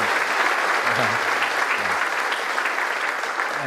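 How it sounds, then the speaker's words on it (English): A conference audience at a React Native talk breaks into sustained applause, a dense, even wash of clapping from a crowd that holds steady for several seconds. "I think we should give him a round of applause for that"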